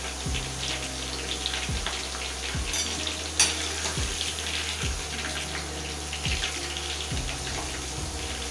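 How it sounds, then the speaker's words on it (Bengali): Potato strips for homemade french fries deep frying in hot oil over high flame, a steady dense crackling sizzle throughout with periodic low thumps and scraping. "হাই ফ্লেমে ভাজতে হবে প্রথমটা।"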